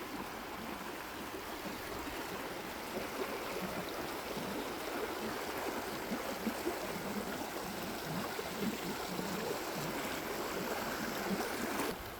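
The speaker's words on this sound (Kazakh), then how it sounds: "Осы таудан келетін су, таудан келіп жатқан сулар ғой, таза сулар, қардың суы." Clear snowmelt water rushing down a mountain stream in a nature reserve, a steady broadband roar that stays even and close throughout with no voices.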